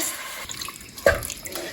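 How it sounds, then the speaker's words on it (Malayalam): Half a cup of water poured into a pan of frying liver makes a short splashing pour with a quick hiss, close and clear, no voices. "ഇനി നമ്മൾ ഒരു അര കപ്പ് വെള്ളം ഒഴിച്ചു കൊടുക്കുന്നു"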